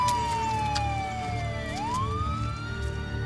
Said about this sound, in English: Ambulances arrive within minutes.